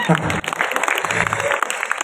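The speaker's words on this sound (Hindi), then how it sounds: "समझ में हमें ताली वाली बजाओ यार।" At a cultural event celebrating an Ajmer organisation's first anniversary, a crowd claps loudly and briskly, and voices and a hum of talk run under the applause.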